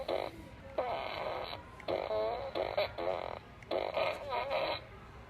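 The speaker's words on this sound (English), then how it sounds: "Here we have a fart blaster." A fart blaster toy lets out a series of drawn-out, buzzing fart noises in bursts with short gaps, loud and close, heard on its own.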